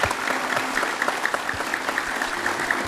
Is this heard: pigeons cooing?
no